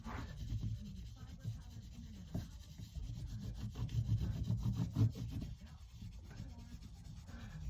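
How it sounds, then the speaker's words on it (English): A cloth rubs guitar polish along the fretboard of a cigar box guitar, making soft, close, repetitive scrubbing strokes in an uneven back-and-forth rhythm. "Clean that fretboard up."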